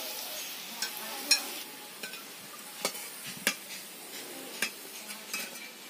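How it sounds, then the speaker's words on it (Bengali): Fish roe fritters fry quietly in mustard oil, giving a soft, low sizzle. About ten sharp metal clinks and scrapes of a utensil against the pan stand out above it at irregular intervals, close and with no talk. "এইভাবে একে একে সব বড়াগুলোকেই মা ভেজে নেবে"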